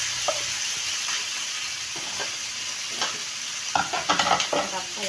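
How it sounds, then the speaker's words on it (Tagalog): Vegetables being sautéed in a pan for chop suey sizzle with a steady hiss, while a utensil stirs and scrapes in short clattering bursts that grow busier toward the end, close and moderately loud. "Gisahin natin ang gulay."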